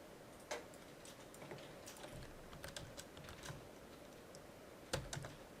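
Keys click on a computer keyboard in a scattered, irregular rhythm of single taps, faint and close, with one sharper keystroke near the end and no talking.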